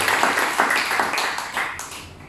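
Church congregation applauding together during a Spanish-language sermon, a steady wash of many hands clapping at moderate distance with rhythmic surges, gradually tapering off toward the end.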